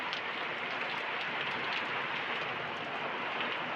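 Steady, moderate rain falls continuously, a dense hiss of drops hitting surfaces with no pauses.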